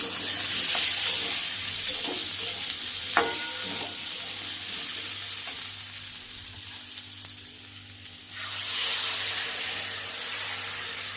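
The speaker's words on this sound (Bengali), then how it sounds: "সবজিটা কষানো হয়ে গেছে এখন আমি জল দিয়ে দেবো" Water splashes into a pan of sizzling sautéed vegetables during vegetarian home cooking, a steady loud fry hiss with a few clinks, dipping briefly before the sizzle swells again near the end.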